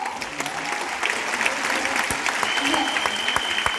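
Crowd at a women's empowerment event in New Delhi gives loud applause to one another, a brief dense patter of clapping with voices and cheering mixed in.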